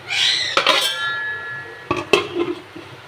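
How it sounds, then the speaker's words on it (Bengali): A metal lid is set onto a cooking pot of potato curry with clinking metallic knocks, a ringing clatter early, then two more sharp clanks close by, with no talking. "এবার আমি ঢাকা দিয়ে দেবো"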